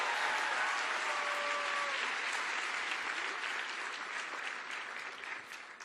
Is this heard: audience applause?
yes